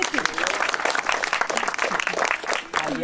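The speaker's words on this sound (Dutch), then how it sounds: "Beste mensen, graag een applaus voor dit team" People at the opening of the Geuzennaald in Brielle applaud a team, a loud, dense burst of clapping with uneven swells, and voices and cheers mixed in among the hands.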